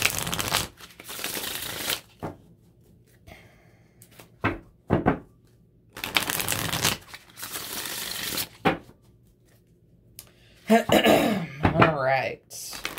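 Tarot cards are shuffled by hand in bursts of riffling and shuffling separated by short pauses, close and moderately loud, with a voice speaking near the end.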